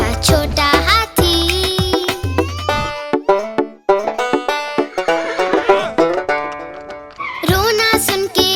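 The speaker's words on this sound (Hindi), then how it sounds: "रोना सुन के घोड़ा आया, साथ में अपने वो गाड़ी लाया।" A horse whinnies inside a Hindi nursery rhyme for children, set over bright, busy music with sung melody and sound effects. A loud neigh bursts out near the end.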